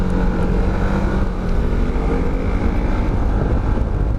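An FKM MTX-150 hybrid motorcycle accelerates with a loud, steady engine drone that rises gradually in pitch, heard close up without any talk.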